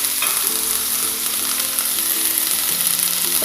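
Garlic chive flowers frying in a pan with a little water, a bright steady sizzle with soft rhythmic stirring scrapes, close and uninterrupted by talk.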